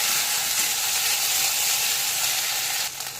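Five-spice, ginger paste and crushed green chilli frying in hot oil, a loud steady sizzle and crackle that carries on evenly and then softens slightly at the end.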